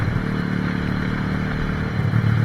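A motorcycle ridden on Jamaican roads gives a close, continuous engine drone with rattling clatter and slight revving toward the end, loud and steady without talk.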